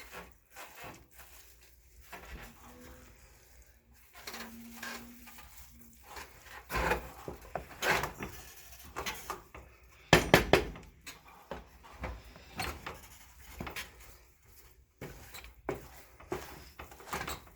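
Big pot of Nigerian jollof rice stirred hard with a wooden spoon, giving irregular knocks and scraping rubs against the pot at close range, with louder clunks midway.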